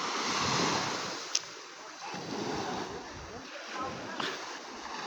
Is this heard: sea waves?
yes